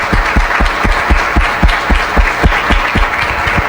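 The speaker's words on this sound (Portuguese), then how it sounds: "Eu queria uma salva de palmas para o Dr. Lídio, por favor" At a medical scientific meeting, an audience claps in tribute to Dr. Lídio; loud, fairly rhythmic hand claps land in a steady, close-miked beat over a light background hum.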